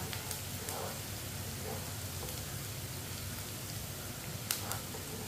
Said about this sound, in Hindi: प्याज को ऐसे ही चम्मच चलाते हुए पका लेंगे, ब्राउन कर लेंगे हल्का सा।